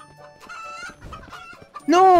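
A cartoonish chicken in the video game Who's Who? clucks in short, choppy bursts, ending in a sudden loud, drawn-out squawk.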